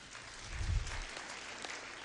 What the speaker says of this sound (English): and can you clap for him?